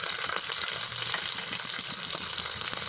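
Ginger garlic paste with coriander powder and turmeric frying in hot oil for chana pulao gives a steady, close, loud sizzle that runs unbroken, with no talking.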